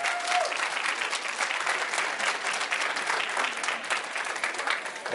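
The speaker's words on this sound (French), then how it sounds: "je vous demande de recevoir ce jeune talentueux qu'on appelle DTM depuis Welia Production, New York City, sous vos applaudissements" Sustained applause from a hall audience welcoming a young performer at a Guinean independence anniversary celebration, dense and steady throughout with no talk over it.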